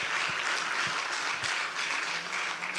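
An audience at an African heritage concert and awards event in Marrakesh, Morocco, applauds His Excellency, a steady, fairly soft wash of clapping with a few heavier low thumps early on.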